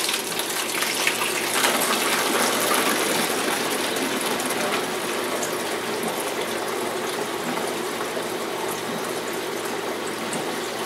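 A blueberry and apple juice mixture pours continuously into a bottle with a steady, close gushing and splashing of liquid that holds at an even level throughout.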